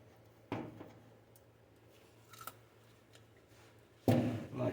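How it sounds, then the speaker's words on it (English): A short piece of rubber heater hose for a 1948 Chevy truck is cut by hand, giving a couple of faint snips and a louder, crunchy cut near the end against a quiet shop background. "Cut a little chunk of hose here."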